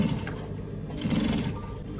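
Sewing machine stitching a senator placket, running forward and back stitching, a close, continuous mechanical whir with a rhythmic hum that rises and dips in two bursts, no talk.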